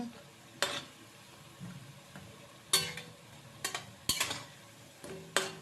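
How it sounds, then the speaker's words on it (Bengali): Coriander leaf fritters frying in a pan while being stirred. A quiet, steady oil sizzle sits beneath several sharp scraping knocks of a spatula spaced irregularly throughout. "দেখো ভেজে নিচ্ছি ভালো করে একদম নাড়াচাড়া করে ভেজে ভেজে নিচ্ছি"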